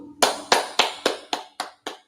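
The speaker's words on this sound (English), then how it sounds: "give him a round of applause." Seven sharp hand claps at a slow, even pace, close and distinct, each followed by a brief decay, with no talk over them.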